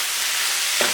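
Water hits a hot pan while vegan red curry ramen cooks, giving a loud, steady sizzle throughout with a brief stirring scrape near the end.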